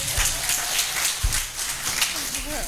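Crowd at a Kenyan political rally applauding women leaders, a dense continuous wash of clapping with scattered low thumps, mixed with crowd noise and faint voices throughout.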